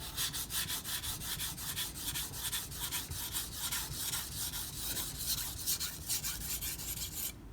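A Karaku AS Gyuto 210mm chef's knife is drawn back and forth across a whetstone in steady, close, continuous rasping strokes with no talking.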